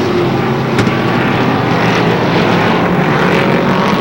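Race car engines roaring steadily at Lee Speedway in New Hampshire during qualifying races, a loud, continuous mechanical drone that holds for the whole stretch, with no talk over it.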